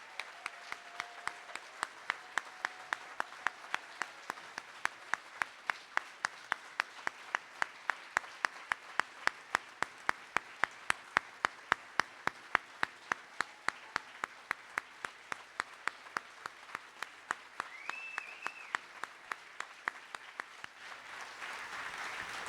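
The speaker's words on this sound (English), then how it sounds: "Please give a round of applause to Jordan's family who are here to join us today and show solidarity." Steady rhythmic clapping from an audience at a rally against racism, quiet and even-paced with sharp regular claps over soft background noise, lasting about twenty seconds before fading out.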